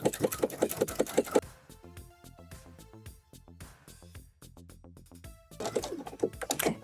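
A home sewing machine topstitches down the last spot on a shorts pocket, a quick burst of rapid needle strokes at the start and end with quieter mechanical ticking and clicks between, no voices.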